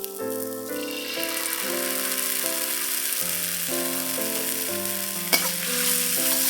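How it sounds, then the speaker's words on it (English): Spicy bean paste and garlic fry in a pan for a Chinese eggplant dish, giving a steady broadband sizzle that stays at an even level throughout, with a few faint stirring scrapes and a soft musical tone in the background. "Fry all this for a minute till everything is fragrant"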